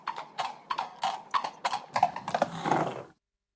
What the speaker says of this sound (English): the sound of wheels echoed from the street below